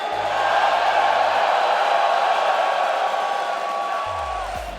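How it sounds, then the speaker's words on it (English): A large esports arena crowd cheers at the 2022-23 Winter Major grand finals, a loud sustained roar of voices and whoops filling the whole stretch, with a commentator's voice faintly under it. "The crowd's starting to get jacked up again."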